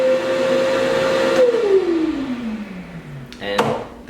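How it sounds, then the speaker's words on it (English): A workshop dust collection vacuum, housed in a box and drawing from a downdraft table and miter station, winds down from a steady whine with falling pitch, followed by a few nearby knocks. "there it is, dust collection."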